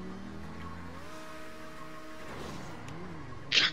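Car engine from GTA 5 driving steadily at moderate volume, a low droning hum with gentle pitch shifts as it accelerates, ending in a brief sharp burst near the close.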